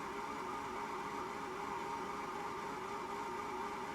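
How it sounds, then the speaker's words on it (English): A steady, droning car engine noise in a glitchy Fortnite replay, with a harsh, buzzing tone holding constant throughout, sounding strained and uneven, with no voices. "the frickin' replay makes the car sound like it's having an aneurysm"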